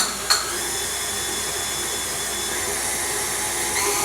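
A KitchenAid stand mixer running at a medium speed setting, a steady whirring motor hum with a brief clunk near the start, continuous and close.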